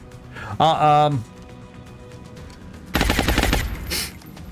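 Alloy cannon from the XCOM Long War strategy game fires in one dense, roaring burst of rapid reports near the end, following an earlier short harmonic electronic tone, with quiet game ambience between.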